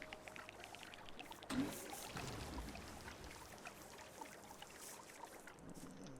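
Water flowing in the Terra Nil video game, a very faint soft pouring and trickling rush that lasts throughout, with a small splash near the start.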